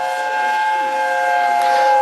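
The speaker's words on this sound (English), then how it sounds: "Most LNER locomotives had a quite high-pitched whistle, but this beautiful two-tone chime, slightly American in sound" An LNER steam locomotive sounds its two-tone chime whistle during a railway cavalcade, a loud, sustained chord-like blast held for over two seconds, close and dominant.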